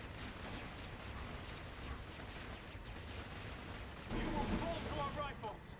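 Space Marine scouts in Dawn of War 3 fire on Eldar snipers, a faint continuous rattle of small-arms gunfire in a distant battle, thickening near the end.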